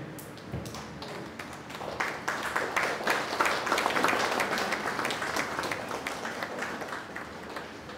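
Sustained applause from an audience at a Bengali magazine launch ceremony, a dense, steady patter of many hands clapping that swells slightly midway and continues for several seconds without talk.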